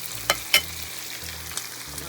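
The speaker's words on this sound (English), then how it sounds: "When it's on the other side, you know, you don't have to fry it too long." Shrimp tempura coated in corn starch fries in a pan, a steady close sizzle and hiss with a couple of sharp crackling pops and faint clinks, no talking.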